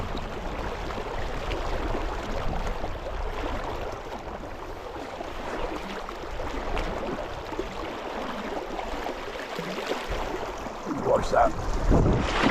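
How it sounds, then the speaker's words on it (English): Wind blowing over the river Tay in Scotland during salmon fishing, a constant buffeting rumble across the microphone, with a brief spoken phrase. "Wind starting to come over me."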